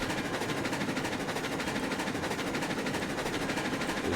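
In the RailRoads Online video game, a locomotive runs at speed with a dense, steady rattling, clattering rumble, loud and continuous without talk.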